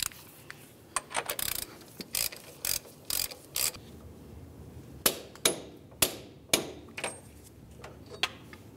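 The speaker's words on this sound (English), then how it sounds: "You can use a ratchet and your 32 millimeter socket," A ratchet with a 32 mm socket tightens the axle nut on a 2010-2013 Ford Transit Connect, giving a sequence of close, crisp ratcheting clicks in short strokes with brief pauses between them, with no talking.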